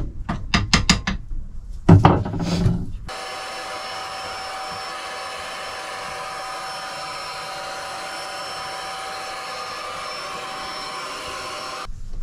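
Vacuum cleaner sucking ash out of a narrowboat's wood stove, a steady loud whine that runs for about nine seconds after a few clunks of scraping and knocking at the start.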